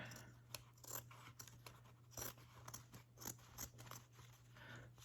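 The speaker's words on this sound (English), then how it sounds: "Cutting through all this fabric lately has dulled them" Repeated crisp snips of scissors cutting through cotton fabric, close and fairly quiet, in an uneven rhythm over a steady low hum; the scissors are dulled.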